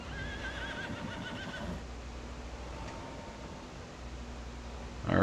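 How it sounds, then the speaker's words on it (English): Horses neighing and whinnying in the Farming Simulator 25 video game, several calls in the first couple of seconds over steady ambient game noise, fairly distant, with a soft rustle and a louder burst at the end. "you can hear my horses just making noise"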